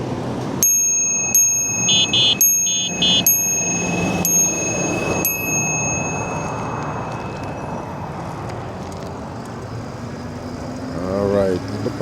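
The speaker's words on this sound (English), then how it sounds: "you can hear a lot of ringing and dinging, honking my horn and ringing my bell" A bicycle bell rings several times in quick bright dings near the start, over steady outdoor traffic noise in a parking lot, with a brief voice near the end.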